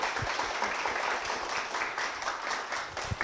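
Steady applause from a church congregation, a dense even wash of clapping that holds at a moderate level throughout without a break.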